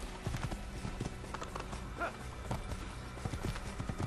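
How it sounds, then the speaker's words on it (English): A horse in the video game Assassin's Creed gallops and jumps, giving rapid rhythmic hoof clip-clops that are fairly faint and close, with a brief whinny partway through. "It's like the lamest horse jumping ever in a game."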